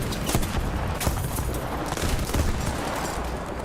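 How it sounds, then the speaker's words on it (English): Autocannon fire from a combat aircraft in the War Thunder video game: a loud, dense, continuous burst of rapid shots that fills the whole stretch with no pauses. "That's generally what's going to happen against an autocannon."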